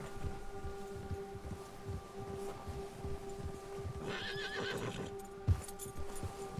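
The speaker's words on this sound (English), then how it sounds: "The bear has spooked your horse." A spooked horse in a hunting video game whinnies and snorts with agitated clip-clop hooves, over a steady background hum and faint ambience.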